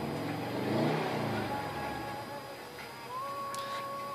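A Subaru Impreza engine revs as the gas pedal is pressed, heard as a moderate, fairly quiet rise and fall in engine tone inside the car, followed by a settling hum.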